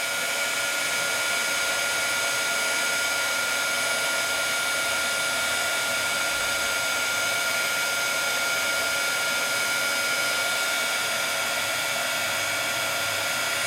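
A Sizzix heat tool blows hot air close over embossing powder to melt it, giving a steady, loud, unbroken whooshing hiss that runs alone without a break.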